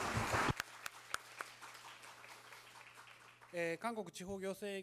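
Audience applause closing a Korea–Japan joint seminar panel discussion: a brief loud burst of clapping, then a few scattered claps, followed by a person speaking.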